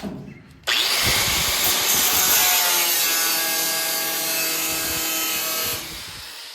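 A power tool slices sheet metal on a Firebird or Camaro OER tail panel. It starts abruptly after a short quiet lead-in, then whines in a loud, steady cut for about five seconds before stopping.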